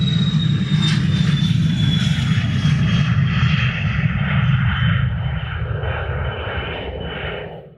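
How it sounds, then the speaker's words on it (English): An aircraft takes off at Luton Airport, its loud engine roar close and steady, with a high whine sliding slowly downward before the noise fades as the plane climbs away. "Wait for this aircraft to take off and we'll have a little look."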